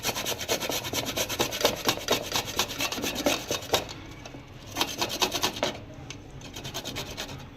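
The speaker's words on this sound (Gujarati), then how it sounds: "હવે આદુ પણ આપણે એડ કરી દઈશું ખમણીને।" Fresh ginger scraped over a kitchen grater for tomato soup makes repeated raspy strokes, quick and rhythmic, close and fairly quiet, briefly pausing then resuming.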